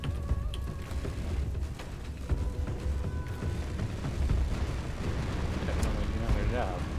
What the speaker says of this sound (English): Heavy fire on Tate from those custom turrets.